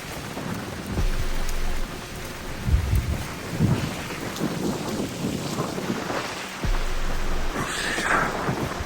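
Rain with thunder on a hiking trail, steady rainfall with low rumbling booms and loud thumps of gusts close to the microphone.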